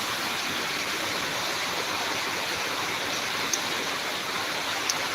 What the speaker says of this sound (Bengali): এত বৃষ্টি পড়ছে বাইরে অতিরিক্ত বৃষ্টি কাল থেকে শুরু হয়েছে